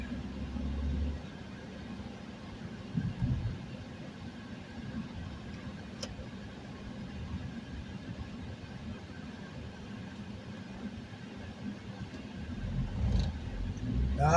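Interior sound of a manual transmission car cruising in third gear, a low steady engine rumble with mild swells, heard from inside the cabin with no talking.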